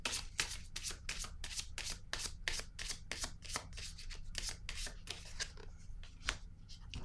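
Tarot cards handled during a reading, a rapid run of crisp riffling slaps and rubs from cards shuffled close by, thinning into a few sharper flicks as a card is laid down.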